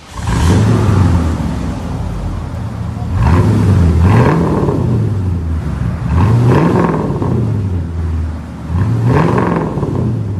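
A 1989 Ford Crown Victoria with a 4.2L Windsor V8 and straight-pipe true dual exhaust revs repeatedly, with four loud throaty surges that rise and fall over a rumbling idle, close by.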